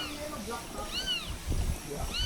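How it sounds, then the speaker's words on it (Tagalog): Kitten meowing somewhere below a hiking trail, several high, arching mews heard close by over rustling and background chatter. "May kuting nga sa baba."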